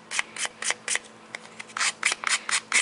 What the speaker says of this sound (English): Sanding the edges because I just like to give the tree top a little bit more definition